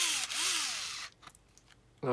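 An electric screwdriver whirs steadily for about a second, then stops, leaving a short quiet before a brief voice.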